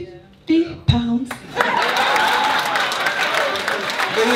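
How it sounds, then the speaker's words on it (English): A small audience breaks into steady applause after a couple of spoken lines and brief chuckles, clapping filling the room evenly for the last few seconds. "Round of applause, please."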